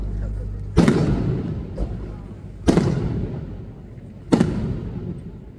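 Three loud firecracker bursts at a Kannada film event, spaced roughly two seconds apart, each a sharp bang with a short decaying rumble, set against background hall noise.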